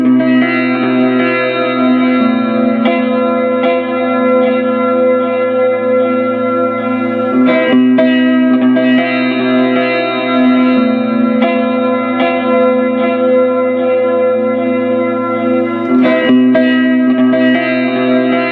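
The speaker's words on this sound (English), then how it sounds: "you hear that little echo at the end? That's from the Albion." An electric guitar played through pedals into an Albion AG80DFX hybrid amp rings out in loud, sustained chords with a lingering echo tail, chords changing a few times with no talking.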